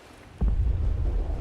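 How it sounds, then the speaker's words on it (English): A modded explosion effect in Fallout 4 hits as a sudden deep boom, then a dense low rumble that rolls on for over a second with no voices. "I really don't like the explosion effect that one of my mods adds to the game"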